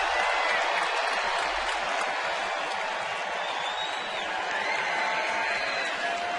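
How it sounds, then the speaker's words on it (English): A baseball crowd at an Orioles home game cheers and applauds in a steady, dense roar that holds throughout, with whistles rising above the noise. "Oriole crowd tonight has come ready to make noise."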